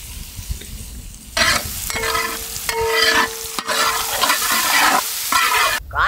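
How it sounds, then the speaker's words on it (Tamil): Vegetables with masala sizzle in hot oil while being stirred for a village-style vegetable masala noodle dish, with steady frying hiss and repeated scraping strokes close by and fairly loud. "எண்ணெயில நல்ல வசக்கி எடுத்துக்கணுமுக்கா."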